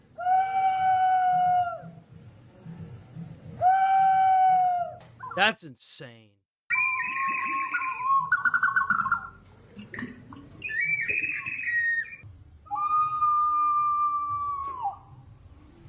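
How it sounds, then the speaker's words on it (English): Whistling jars producing animal-like calls: a series of clear, tonal whistles and warbling hoots in separate bursts, some rooster- and bird-like, with a person briefly talking and reacting between them. "These whistling jars make different animal sounds."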